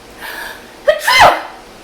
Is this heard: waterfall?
no